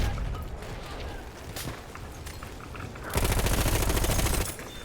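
Gunfire in Battlefield 1, scattered shots first, then a loud sustained burst of rapid automatic fire near the end, with no talk.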